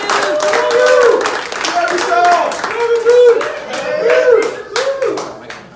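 A church congregation claps in welcome for a visiting preacher, a close, uneven patter of hands rising and falling in bursts, with voices calling out and talking over it throughout.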